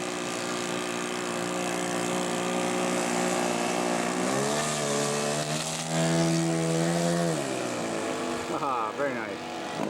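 A scale model Piper Cub-style aircraft with a twin-cylinder opposed engine taxis in after landing at a Fern Prairie Modelers show, its buzzing engine droning steadily nearby, then rising and falling in pitch as the throttle changes, with faint talk underneath.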